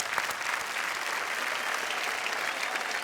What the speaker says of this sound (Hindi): एक बार जोरदार तालियां फिर इनके लिए